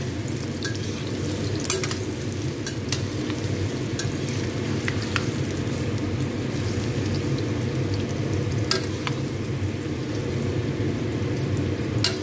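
Eggplant frying in a small amount of oil, a steady close sizzle throughout with scattered pops and crackles and occasional stirring clicks.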